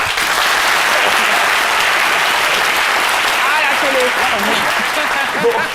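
Loud, steady applause from a studio audience on a French-language daytime talk show, filling the whole stretch without pause, with crowd noise and a voice rising over it near the end.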